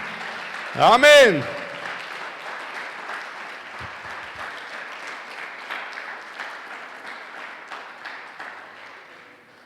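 A church congregation claps and cheers through a steady wash of applause that fills most of the stretch, after a preacher's brief spoken word and a short sharp swelling sound near the start.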